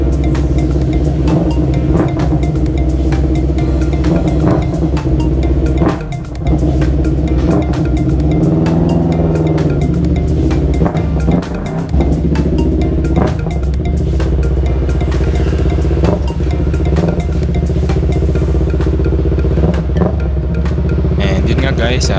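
Yamaha R3 V1 motorcycle on a test ride after a quick throttle upgrade, its engine droning loud and continuously with rising and falling revs and wind rush throughout.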